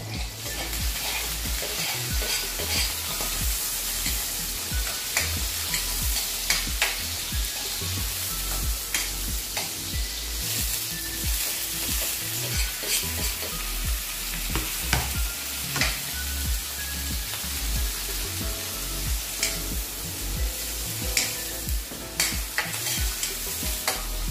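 Onions sautéing in a pan for Filipino misua with sardines and patola: a loud, continuous sizzle broken by frequent scraping and stirring knocks throughout.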